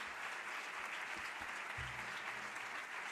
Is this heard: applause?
yes